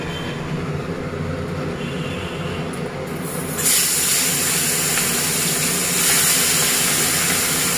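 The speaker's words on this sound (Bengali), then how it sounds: "তার আগে আমি চিমনিটাকে চালিয়ে দিই।" A kitchen chimney exhaust hood runs with a steady, loud whooshing drone that steps up in force partway through as the fan kicks higher, over a home kitchen where fish is frying; no one speaks.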